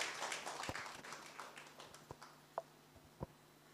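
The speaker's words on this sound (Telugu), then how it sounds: "ఈ సమయంలో మరి దైవజనరాలను చప్పట్లు కొడుతూ మనము ఆహ్వానిస్తాం." A church congregation claps to welcome the pastor at an Agape Calvary church service, scattered sharp claps that start dense and thin out to a few isolated slaps, fairly faint and with no one speaking.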